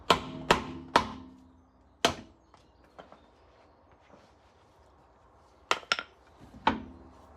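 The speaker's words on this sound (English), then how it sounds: "Got the copper hide hammer just to tap the back of the rim and hopefully shift this off." A copper hide hammer strikes the back of an Audi A3's rear wheel rim to free it from the hub: three quick sharp metallic knocks, a lone hit, then several more, loud and close with lighter clinks between.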